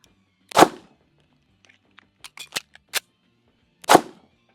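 Gunshots from a cheap all-steel double-stack 1911 pistol getting hot during a range session: two loud sharp reports about three seconds apart, with small clicks and metallic handling noises between them.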